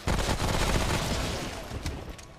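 Rapid SMG gunfire in a video game, a dense loud burst of shots in the first second and a half that thins into scattered shots and fades out near the end, with no talking.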